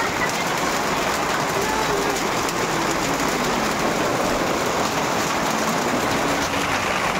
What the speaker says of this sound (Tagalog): grabe na po ang lakas ng ulan